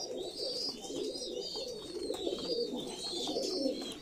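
Pigeons coo softly and repeatedly in a loft, their low throaty calls overlapping in a steady murmur with a few faint chirps, with no talking.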